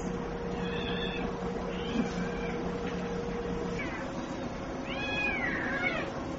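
A cat meows several times, short rising and falling cries repeated across a few seconds, close by over a low steady hum.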